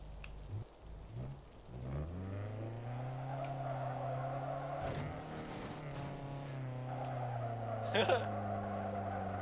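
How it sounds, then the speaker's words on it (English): Tires squeal long and steadily as a car spins donuts in the racing game Need for Speed: Underground 2, a sustained skid with engine tone shifting underneath, loud and close with no talking. "That smoke with the donut is coming off of the rear wheels."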